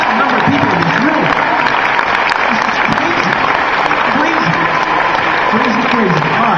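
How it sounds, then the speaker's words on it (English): A large convention panel audience applauds loudly and continuously, dense clapping filling the room with some cheering mixed in. "give yourselves a round of applause"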